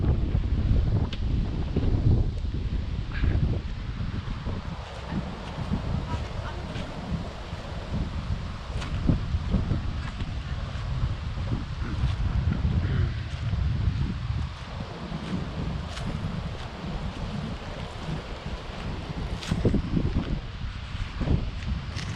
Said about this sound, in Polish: wieje tutaj